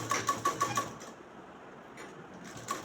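A sewing machine stitches an umbrella frock, starting with a quick rhythmic run of needle pulses that eases into a softer steady whir, then a brief tap near the end, all close up and without speech.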